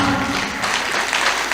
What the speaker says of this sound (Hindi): अच्छी बात पर आपकी अच्छी तालियां मुझ तक पहुंच रही हैं